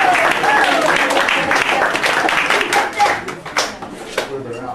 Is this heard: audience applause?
yes